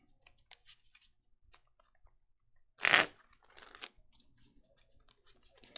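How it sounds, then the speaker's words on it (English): A deck of Pokemon trading cards gets a single short, crisp riffle shuffle at close range, with light card handling and soft clicks around it in an otherwise quiet room. "And then we'll shuffle up."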